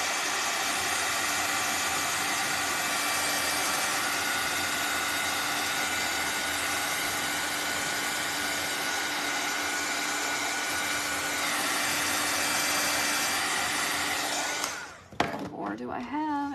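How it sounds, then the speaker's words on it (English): A handheld heat dryer blows steadily over glued reindeer and polka-dot craft pieces for a tiered tray, a loud continuous whooshing drone that cuts off near the end with a few clicks and handling knocks. "I'm gonna hit these with the dryer"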